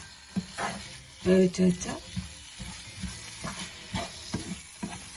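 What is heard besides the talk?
tomato and masala sizzling while being sautéed in a pan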